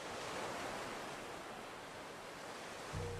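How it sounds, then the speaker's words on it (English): Ocean surf in a virtual-reality environment plays as a steady, soft hiss of breaking waves, faint and even throughout with no speech. "Sounds a bit like waves, not fuzzy."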